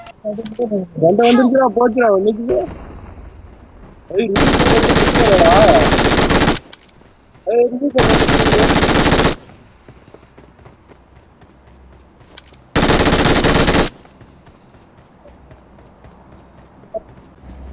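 Bursts of automatic gunfire from the battle royale video game BGMI, three long loud sustained volleys separated by pauses, with a voice talking between the bursts.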